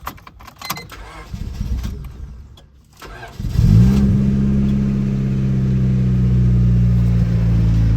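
A turbocharged Honda Civic with a stock ECU cold-starts after rattling and clinking sounds, cranking briefly before catching and settling into a loud, steady idle close by.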